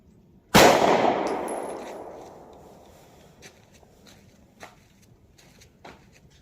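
A 3.1 inch short-barrel Sky DVG1 pistol fired once into clear ballistics gel at a range, one loud sharp report with a long ringing decay, followed by faint scattered clicks and footsteps.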